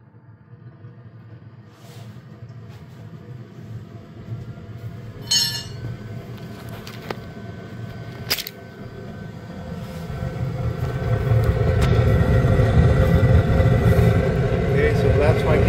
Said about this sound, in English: I'm going to turn on my fan slowly on.